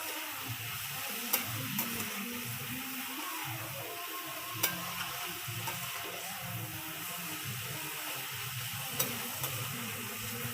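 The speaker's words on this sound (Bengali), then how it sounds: "ভালো করে ভেজে নেব।" Faint, steady sizzle of vegetables frying in a pan with salt and turmeric for a vegetarian meal, with a few soft clicks of stirring scattered through; no talking.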